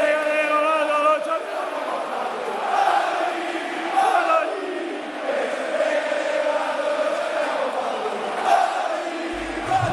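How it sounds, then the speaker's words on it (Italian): A stadium crowd of football fans erupts and keeps roaring after Padoin scores, a dense, sustained wall of cheering voices that holds steady for the whole stretch. "Lo stadio è letteralmente esploso per il talismano."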